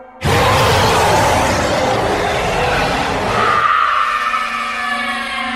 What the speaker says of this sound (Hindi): पूरा जंगल मॉन्स्टर की बहुत खतरनाक आवाज से दहल रहा है।